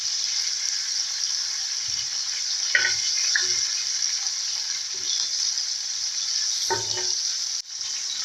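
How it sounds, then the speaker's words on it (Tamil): Tuticorin-style fish fry sizzles steadily in a pan, a close, even hiss with a few soft knocks as the pieces are turned. "ஃபிஷ் ஒன் சைடு நல்லா ஃப்ரை ஆகிடுச்சு. நம்ம நெக்ஸ்ட் அதை இப்படி மாற்றி மாற்றி விட்டுக்கலாம், திருப்பி போட்டுக்கலாம்."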